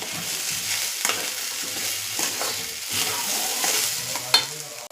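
Sweet potato pieces sizzle in ghee while a spoon stirs them, a close, steady frying hiss broken by repeated scraping strokes and a sharp clink near the end, with no voices.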